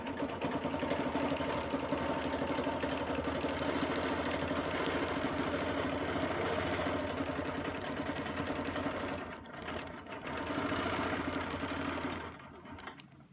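A longarm quilting machine runs steadily as it stitches a Baptist fan arc, a dense continuous mechanical whir with brief dips near the end as it slows and resumes.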